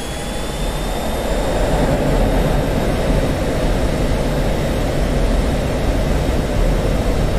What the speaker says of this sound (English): so power up to max afterburner.